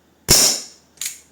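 A Colt Smoke Wagon CO2 air revolver in 4.5mm fires two close, sharp cracks, a loud first shot followed about 0.7 seconds later by a quieter second one, each with a short hissing tail.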